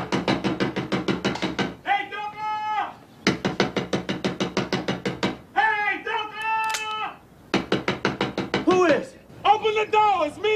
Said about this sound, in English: Boy Willie, open the door